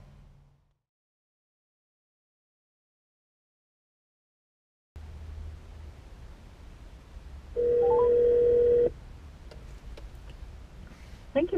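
A phone call placed through a FIAT 500L's Uconnect hands-free system: after a short silence, faint car-cabin hum carries a single clear ringback tone lasting about a second, followed by soft ticks and clicks.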